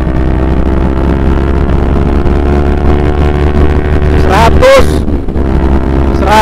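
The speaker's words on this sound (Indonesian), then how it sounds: "Memang ada suara angin masuk, cuma nggak ribut gitu" Steady wind rush and low road roar inside a full-face motorcycle helmet while riding at about 80 to 100 km/h, a continuous dense hum with a brief whooshing swell near the end.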